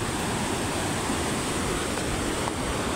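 The Ikhuwa river, a hill-country stream near the Arun river, rushes steadily in a dense, unbroken roar of flowing water, close and loud with no voices.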